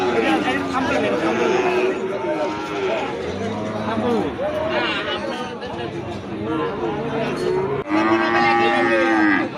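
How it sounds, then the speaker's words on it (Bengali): Cattle at a busy cattle market selling heifers and bulls moo loudly and repeatedly, long drawn-out calls overlapping close by, over a constant babble of crowd chatter. "একটা সার বাছুর দেখাচ্ছি"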